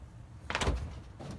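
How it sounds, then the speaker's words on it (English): A front sliding window on a classic BMW compact car is moved along its track, making one brief scraping slide that ends in a soft thunk, close and fairly quiet. "it's these windows in the front that slide open and slide shut"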